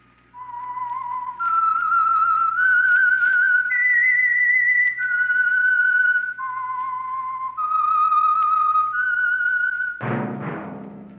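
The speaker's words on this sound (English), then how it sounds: "That whistle is your signal for the Signal Oil Program, The Whistler." A clear, solo whistled melody of sustained notes rises and falls in a short tune, ending with a sharp bright strike.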